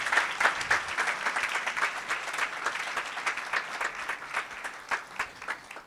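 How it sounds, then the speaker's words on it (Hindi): A congregation at a Saturday satsang claps to glorify God, a brisk ragged patter of many hands filling the room, steady and moderately loud, with no talk over it. "ताली बजा के प्रभु को महिमा दे।"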